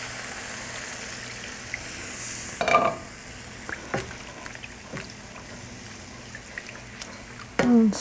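Beef broth is stirred into a roux in a pan over a low simmering hiss, with scattered scraping strokes and two louder clattering stirs near the start and end.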